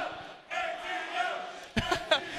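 A crowd at a King of Fighters XV fighting-game tournament top 8 roars and shouts in the background, swelling in bursts with a few sharper yelling peaks, heard at a moderate distance.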